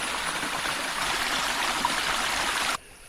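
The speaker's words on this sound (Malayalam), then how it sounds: "ഇതൊരു അരുവി ഒഴുകുന്ന കേട്ടോ ഇതിലെ." A shallow hillside stream flows over rocks at low water, a steady close rushing and trickling that stops abruptly near the end.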